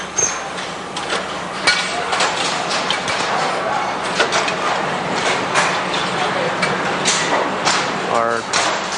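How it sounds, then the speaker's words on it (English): Hand filing of cutting-edge bevels on steel pliers such as diagonal cutters and end nippers in a hand-tool factory, a steady rasping scrape with repeated strokes amid loud, continuous workshop machinery clatter. "We are now filing the bevels on to make our cutting edges to meet specifications for cutting."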